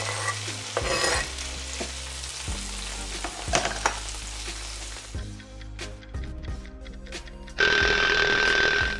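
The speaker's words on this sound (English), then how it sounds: "So we're just going to fry the onion for a couple of minutes in the oil." Onion frying in oil in a pan for a vegetarian sun-dried tomato pasta, a soft sizzle broken by repeated stirring scrapes and clatters, turning to a louder, brighter sizzle near the end.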